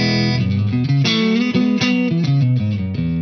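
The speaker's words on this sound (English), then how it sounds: "Now, the opposite to that is something like a Fender type tone" An electric guitar plays a short, busy run of notes through a Fender-style amp channel with the mids dipped and the treble and bass boosted, sounding bright and scooped, steady and loud throughout, with no talking.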